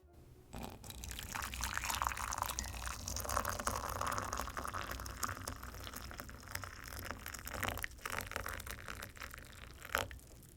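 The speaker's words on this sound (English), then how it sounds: "let me pour a glass of water for you first" Water with mint and lemon is poured into a glass up close, a quiet, steady trickle with a few soft clinks and drips near the end.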